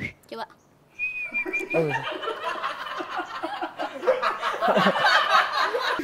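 A short high whistle, then people laughing and chattering over scattered whistling attempts.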